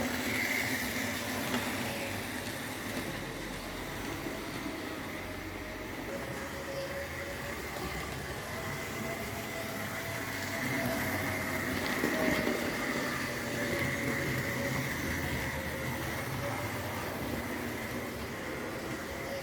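A continuous low rumble and whir of a Tri-ang model train running along its layout track, steady and fairly quiet throughout.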